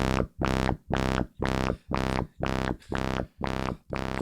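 A buzzy synthesizer tone pulses rhythmically, about twice a second, each swell rising and falling in a steady wobble.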